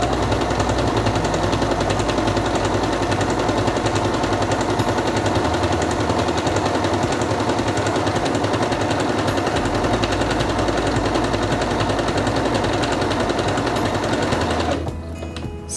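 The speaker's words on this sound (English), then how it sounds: "Put the fabric under the presser foot, lower it, and begin sewing." A Singer Quantum Stylist 9960 computerized portable sewing machine stitches fabric at a 1.8 stitch length, a close, loud, rapid mechanical chatter running steadily for about fifteen seconds before stopping abruptly.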